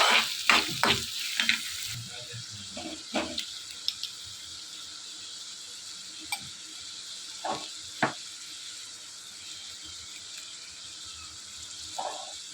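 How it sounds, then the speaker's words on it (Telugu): Green chillies and onions frying in oil in a pan for chicken fry, with loud sizzling and stirring at the start, then a steady low sizzle broken by occasional clinks and scrapes of the spoon. "ఆనియన్స్ కూడా వేసుకున్న తర్వాత ఇవి కొంచెం సేపు ఫ్రై చేసుకోవాలి"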